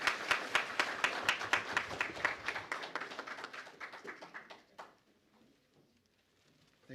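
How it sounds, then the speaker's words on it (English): An indoor audience at an Indigenous Veterans Day event applauds an emcee with steady clapping that gradually thins and dies away after about five seconds, leaving near silence. "If we could all give him a round of applause"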